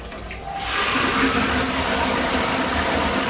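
Water rushes from a tap fitted through an air valve on a water supply pipe, surging in suddenly and then flowing steadily and loudly, with no talking over it.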